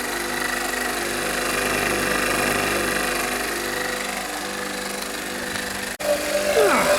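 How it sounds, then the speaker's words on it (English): A heat gun warms a compressor and receiver with a steady, close whirring roar of blown air that runs almost unbroken, cuts out briefly near the end, then resumes. No one talks. "I'm going to get the heat gun on and start warming the compressor up and the receiver"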